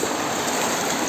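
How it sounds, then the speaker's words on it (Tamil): Ulakkai waterfall near Kanyakumari rushes in a dense, continuous roar of falling water, loud and unbroken with no voices over it. "This is a ஒலக்க அருவி."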